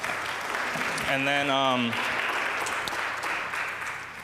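An audience at a charity recital applauds in a steady, even patter that holds throughout, with a brief spoken phrase from a voice cutting in near the start.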